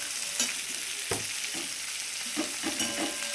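Garlic, a dried red chili, onion and green chili sizzle in hot oil for radish greens, a constant crackling hiss punctuated by a few soft stirring knocks, close and alone.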